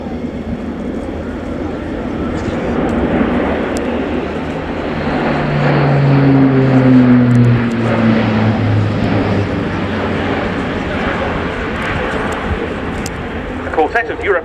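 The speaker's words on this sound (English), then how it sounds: "TP400 turboprop engines powering the aircraft" An Airbus A400M with four Europrop TP400 turboprop engines flies a display at the RIAT 2016 airshow. Its loud, droning propeller roar swells mid-pass with shifting tones, and a commentator's voice runs over it.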